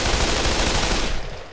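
Rapid gunfire in the Pavlov VR shooter game, a dense burst of shots blurring into one loud continuous rattle lasting over a second, then briefly tailing off, with no talk.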